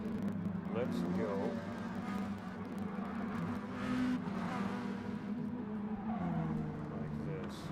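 Race car engines in the GTC-3 racing video game drone and whine steadily, with shifting revs, under someone talking throughout.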